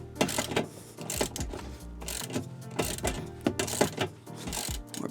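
A wrench cranks a bracket tight on a Mercedes Sprinter console, giving rapid clicking bursts in uneven spurts with short pauses between, close and moderately loud.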